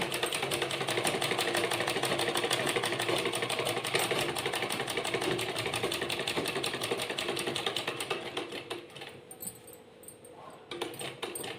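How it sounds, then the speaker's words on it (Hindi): A sewing machine stitches steadily along the edge of a piece of fabric, a dense rapid mechanical rattle that runs close and continuous before slowing and pausing near the end, with no talk. "पहले इसे आपको इस तरीके से रखकर सिलाई करनी है, बिल्कुल किनारी किनारी।"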